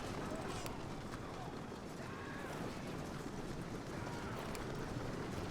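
Massed hoofbeats of Turkoman horse cavalry in the Medieval Total War game, a dense, continuous rumble of galloping hooves mixed with wind-like battlefield noise, with indistinct voices faintly underneath.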